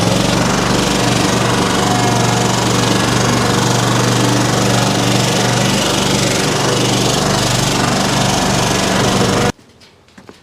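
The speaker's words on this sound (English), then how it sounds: "brought all three mowers out today just because we didn't know how bad this one really was" A lawn mower engine running loud and steady up close, a dense rattling drone for about nine seconds before it suddenly cuts out, leaving faint clicks and quiet.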